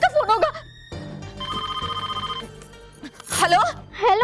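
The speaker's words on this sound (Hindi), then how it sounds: "महर का फोन होगा, महर का फोन होगा।" A telephone bell ringing indoors in a Hindi drama scene, a sustained trilling ring of about a second, with someone talking before and after it.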